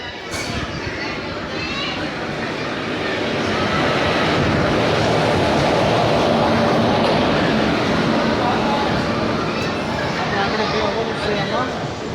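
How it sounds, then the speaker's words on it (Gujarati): The Mahuva train pulls in at a railway platform: a steady broadband rumble and rush that swells through the middle and stays loud, with people talking over it. "આપણે મહુવાવાળી ટ્રેન મિત્રો આવી ગઈ છે અહીંયા."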